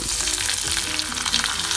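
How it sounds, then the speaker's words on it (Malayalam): Mustard seeds frying in hot oil for tempering a Kerala roasted-coconut chicken curry, a brief loud crackling sizzle with popping, heard close and alone. "ഏറ്റവും ലാസ്റ്റായിട്ട് നമുക്കിതിലേക്ക് കടു വറുത്ത് ചേർക്കാം"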